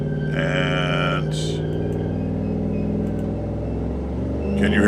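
A car engine in a neighbor's backyard repair spot across an alley revs and idles steadily outside, a continuous low rumble with a brief sharper burst partway through and rising again at the end.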